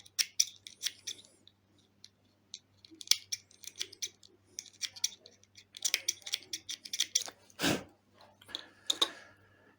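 Repeated crisp scissor snips trimming wire on a Smok RPM3 0.15 ohm vape coil, close and fairly loud, in quick bursts with short pauses, plus a faint steady hum underneath.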